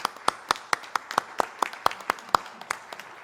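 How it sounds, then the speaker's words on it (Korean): A church congregation at a Sunday service claps in a sparse, fairly steady pattern, with about a dozen distinct sharp claps, close and moderately loud, and no voices. "박수로 격려해 주십시오"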